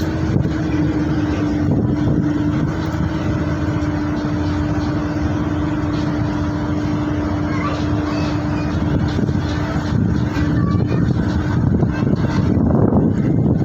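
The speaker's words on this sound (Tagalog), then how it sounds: "Mahangin. Sobrang hangin." Loud, steady wind buffeting the microphone in Iligan City, a constant roaring rush with a low engine-like hum underneath.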